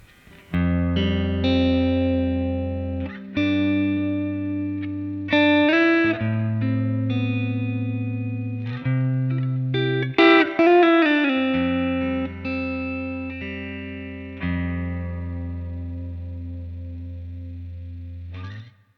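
An electric guitar with a clean tone just on the edge of breakup, on the clean channel of a JOYO JF-12 Voodoo Octave fuzz pedal, playing sustained chords and single notes with slight grit and ringing decay.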